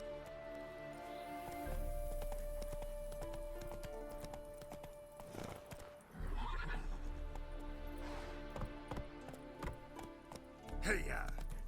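Roach, Geralt's horse in The Witcher 3, neighs and whinnies while hooves clip-clop steadily; the whinnies rise clearly at several points over a busy game backdrop with occasional voices.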